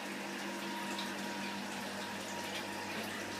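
Water hisses and sprays steadily from a leaky garden hose connection in a homebrewing setup. The rushing wash is continuous and close, with no talk.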